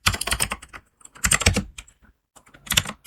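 Bursts of keyboard typing on a computer keyboard while entering Python code, clustered keystrokes in three quick runs separated by short pauses, close and fairly loud.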